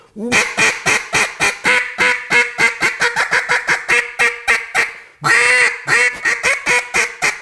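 A jargon duck call imitating mallard ducks: a long, rapid run of loud, raspy quacks, close and steady, broken by one brief pause before it resumes with a stronger burst of feeding-style chatter.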